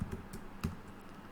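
Quiet typing on a computer keyboard while entering Kotlin code: a short run of four or five light key clicks, close and alone.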